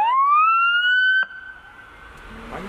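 A police car siren rises in a single fast upward wail, holds briefly, then cuts off sharply, loud and fairly close, followed by faint background rumble.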